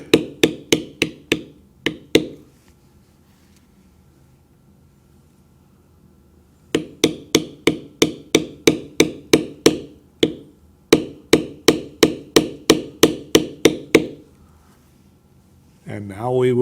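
Repeated sharp taps of a mallet striking a beveling tool on carved leather, working the outside of a dragon's wing. Close, rapid bursts of even strikes come in groups separated by brief pauses, and speech begins at the very end.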